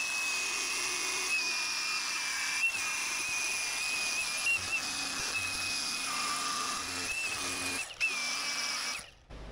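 Steady hissing arc welding as a thumb bracket is tacked onto a new excavator during a hydraulic coupler and progressive link thumb install, a continuous close buzzing hiss with a faint whistle-like tone, cutting out near the end.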